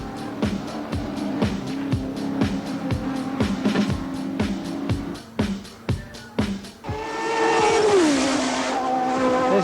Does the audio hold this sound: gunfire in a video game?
no